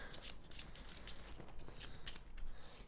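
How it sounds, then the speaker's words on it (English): Soft riffling of a deck of cards being shuffled, a quick papery flutter repeated several times, close but quiet. "So let's just shuffle it one time."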